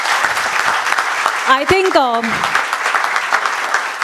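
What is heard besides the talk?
audience applause at a seminar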